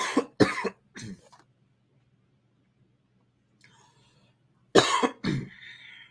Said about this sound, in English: hate to cough in your face there